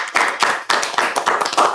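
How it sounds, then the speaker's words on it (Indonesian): Short bursts of group clapping at an indoor school gathering, loud and close, with several quick pulses separated by brief pauses. "Tepuk tangan dong buat mereka semua"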